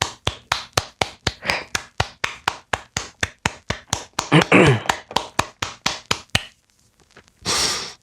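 Hands clap in a brisk, steady rhythm, loud and close, about a dozen sharp claps, briefly broken by a breathy vocal noise, then a pause and a final hiss.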